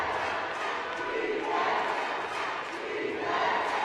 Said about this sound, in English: their home support cheering on the Yamawila boys, needing them to finish strong